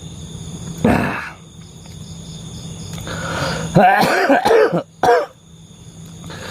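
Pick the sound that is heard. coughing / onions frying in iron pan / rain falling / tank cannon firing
coughing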